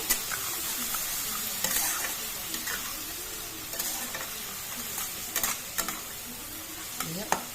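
Mushrooms fry in a pan with a steady crackling sizzle while a spoon stirs and scrapes through them in occasional sharp strokes, close and moderately loud.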